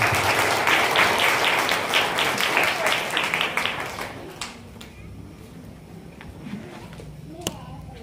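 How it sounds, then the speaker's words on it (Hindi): Congregation clapping to welcome the preacher at a Sunday church service, loud applause for about four seconds that tapers off into a quieter room with a few scattered sounds. "जोरदार ताली के साथ स्वागत करें"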